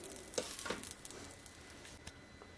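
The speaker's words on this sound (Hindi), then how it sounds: "अब हम सेकंड वाला डोसा तवे के ऊपर डाल देते हैं।" Dosa batter for a crunchy fasting-day dosa sizzles softly on a hot tawa griddle, a faint crackling hiss with a few brief pops and spatters, heard alone.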